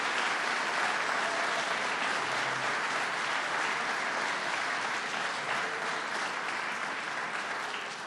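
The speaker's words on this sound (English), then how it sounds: "Let's give them a round of applause." An audience greets Governor Andrew Cuomo and Cardinal Timothy Dolan with steady, dense applause that holds for about eight seconds before easing slightly at the close.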